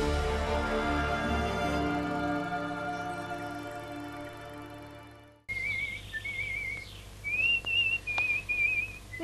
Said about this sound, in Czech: Nechtěl byste s tím pískáním přestat?